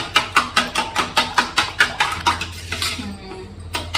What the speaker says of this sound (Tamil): அதனால கரண்டி வச்சு உடச்சிட்டு இருக்கேன்